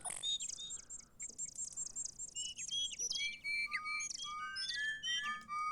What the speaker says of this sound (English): I can't talk to that bird from here.